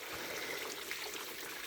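Coolant water streams steadily out of a Ford NC Fairlane / EB Falcon cooling system during a flush, a continuous close trickling rush with no speech.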